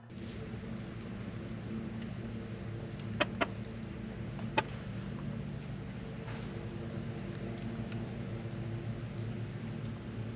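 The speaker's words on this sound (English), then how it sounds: "it's time to introduce our chickens to their new water" Chickens with a rooster gathered at a new automatic waterer, soft clucking and murmuring over a steady low background hum, with a few short sharp calls standing out.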